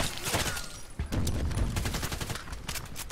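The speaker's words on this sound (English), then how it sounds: "we're gonna throw mortar strike here" Muffled explosions and gunfire rattle from a mortar strike in the online shooter Contract Wars, in a dense, continuous barrage with several heavier booms among rapid shots.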